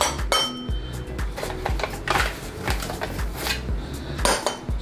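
A utensil clatters and scrapes in a medium bowl while flour and garlic powder are mixed, giving rapid, close, fairly loud clinks and knocks that continue throughout with no talking.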